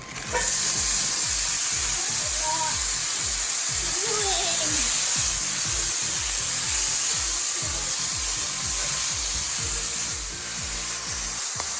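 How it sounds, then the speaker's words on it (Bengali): Frozen vegetables sizzle in a butter-coated frying pan, a steady loud frying hiss with stirring and scraping throughout, close and continuous. "এই সেম প্যানের মধ্যে আমি যে ফ্রোজেন যে সবজিটা সেটা দিয়ে দিচ্ছি।"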